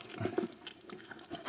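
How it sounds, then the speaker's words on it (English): A spray nozzle is rinsed under running water at a mobile home sink, giving a quiet, uneven splashing and pattering with small bursts of flow throughout, and no speech. "the easiest way to clean it is under the water"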